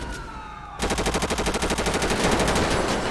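Rapid automatic gunfire in a video game police roleplay, starting abruptly after a moment of quieter siren-like background and continuing as a fast, even, loud burst of shots at close range.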